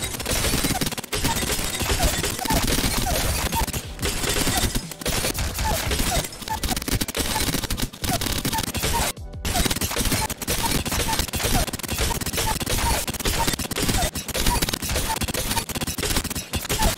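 Alternator from a video game firing at the R99's faster rate: continuous loud automatic bursts with rapid shots running almost nonstop, broken by a few short pauses.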